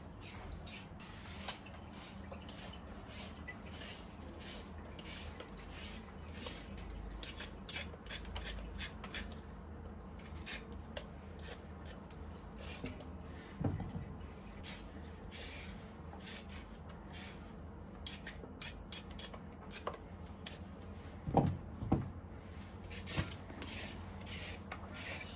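Sweet potatoes being peeled by hand, a quiet repeated rasping scrape in a steady rhythm over a long stretch, close but faint, with no talking.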